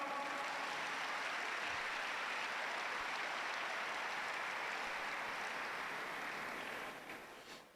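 A church congregation applauds in a long, even roar of many hands clapping that fills the room at a moderate distance, then tapers off toward the end.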